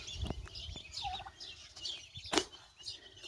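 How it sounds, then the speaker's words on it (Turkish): Turkey chicks about two weeks old peep and chirp softly as they forage in a garden, with scattered high calls and occasional louder cheeps, fairly faint and close by. "Şu anda hindi civcivlerimiz yayılıyorlar gördüğünüz gibi."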